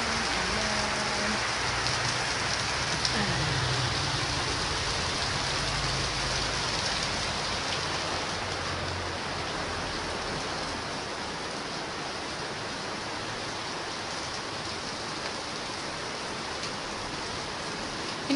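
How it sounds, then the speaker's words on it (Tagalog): Heavy rain pours down steadily in a dense, even hiss that stays loud and unbroken throughout, with no voices. "Ang lakas ng ulan."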